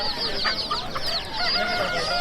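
Several chickens at a bird market cluck and squawk in overlapping bursts at close range, a busy, continuous chatter with no voices.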